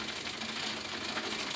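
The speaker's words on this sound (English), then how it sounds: "when riding on the biggest cog, you hear that very specific sound when the guide pulley is riding on the top of the biggest cover" A bicycle rear derailleur's guide pulley rides on the largest 50 or 52 tooth cassette cog, giving a steady, dense mechanical whirring buzz that is close and constant with no voices.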